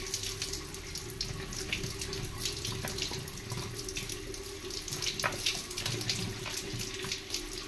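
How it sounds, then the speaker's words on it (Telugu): Sandy taro roots are rinsed under steady running water from a tap, a continuous close splashing and gurgling with small knocks and no talking. "వీటిని శుభ్రంగా ఇసుక పోయేలాగా కడుక్కోవాలి"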